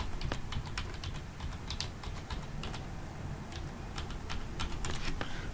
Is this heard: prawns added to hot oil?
no